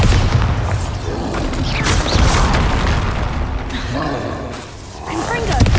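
Bombarda explosion spells in the Hogwarts Legacy video game: loud, booming blasts and crashing debris rolling one into another, with a voice talking over the din.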